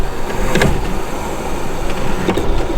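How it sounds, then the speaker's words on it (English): Windscreen wipers on a Peugeot 205 GTI with a seized mechanism, switched on and grinding in a loud motor whir, with two clunking strokes as the arm struggles slowly across the glass. "let's turn the wipers on in the car and see what happens."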